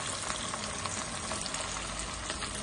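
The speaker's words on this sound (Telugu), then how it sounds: "ఇప్పుడండి ఈ పీసెస్ని ఆయిల్ వేసుకొని డీప్ ఫ్రై చేసుకోవాలండి" Chicken popcorn pieces deep frying in oil over a medium flame, giving a steady, dense sizzle and bubbling hiss that runs evenly throughout without any voices.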